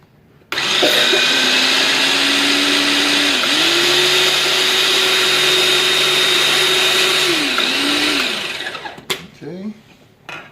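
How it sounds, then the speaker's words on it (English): A food processor grinds dhal puri filling for about eight seconds, a loud continuous whirring drone with its pitch stepping up and down, then stops, leaving a few clunks. "take the stuff from the side of the processor, bring it all to the middle, and give it one more grind"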